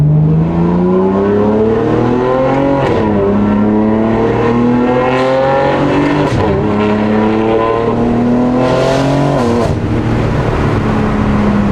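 A BMW G80 M3 on its factory tune, fitted with a Valvetronic Designs exhaust with a 3-inch middle section, revs hard and loud, its raw engine note rising and dropping repeatedly with crackling bursts between pulls.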